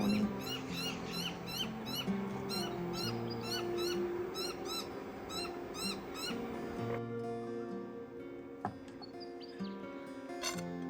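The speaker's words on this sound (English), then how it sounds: "I can see outside the birds playing and the beautiful bird song" Morning birdsong outside an off-grid home in rural Australia: repeated bright chirps and whistled calls over a steady bed of lower tones, with a few fainter, more distant calls in the last seconds.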